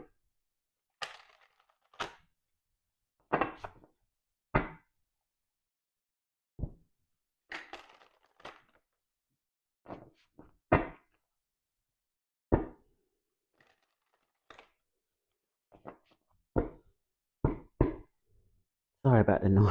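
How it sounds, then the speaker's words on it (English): A tarot card deck being shuffled by hand, a series of sharp separate slaps and riffles spaced irregularly across the stretch, fairly close and quiet, with a denser burst at the end. "now I can begin my shuffle."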